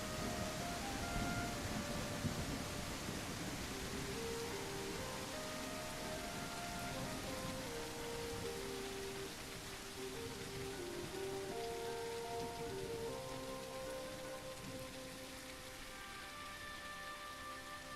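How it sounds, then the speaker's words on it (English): Heavy rain falling outdoors, a dense, steady hiss of downpour with constant patter throughout, faint and even in level with no voices. "it's raining really hard right now"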